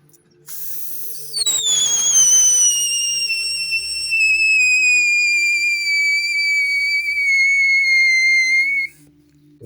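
A loud homemade whistle blown hard: a bright, shrill, sustained tone with strong overtones that starts with a breathy burst, holds for about eight seconds, drifts slightly lower in pitch, then stops abruptly.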